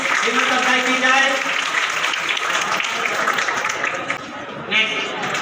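A crowd at an Urdu-medium SSLC toppers' felicitation applauds a district topper with loud, dense clapping that opens over a voice and tapers slightly before a brief swell near the end.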